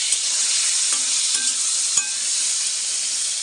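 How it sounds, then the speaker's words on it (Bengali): Potato pieces sizzle steadily in hot oil in a kadai, a constant bright hiss broken by a few soft clicks of a spatula stirring, with no talk. "আর এখানে এখন আলুটা ভাজছি"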